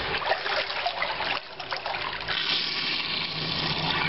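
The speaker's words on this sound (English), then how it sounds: "That drains, but it all just fills up into that side and then comes back here" Water gurgling and trickling in a clogged double kitchen sink with a garbage disposal, a steady close wash of draining and sloshing flow with a brief dip midway, no talk.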